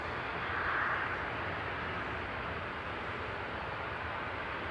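A Boeing 737-800 returning from Alicante at Manchester Airport gives a continuous, moderately distant engine roar with a slight swell near the start, steady and unbroken with no talk.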